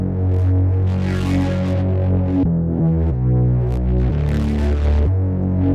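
A drum-machine synth kick with sidechain routing plays without its compressor, a steady throbbing bass-heavy pulse under sustained synth tones, loud and close with no voice.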